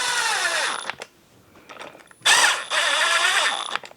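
A power ratchet whirs in two long bursts while running in engine cover bolts on a Suzuki LTZ400 quad engine, close and loud, separated by a short quieter gap of small clicks and handling noises.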